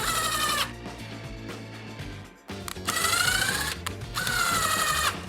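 Cordless screwdriver set to minimum power driving cheap soft-steel screws with an IKEA tool set bit, giving two bursts of rising, whining motor buzz separated by a short pause.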